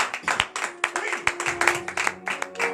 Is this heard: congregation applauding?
yes